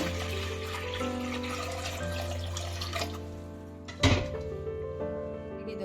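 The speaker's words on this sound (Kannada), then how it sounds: "ಒಂದು ಕುಕ್ಕರ್ ಒಳಗಡೆ ಸೊಪ್ಪು ಮುಳುಗುವಷ್ಟು ನೀರು ಹಾಕೊಳ್ಳೋಣ" Water runs steadily from a tap into a metal pressure cooker over a background of music, then a sharp clank of the pot is heard.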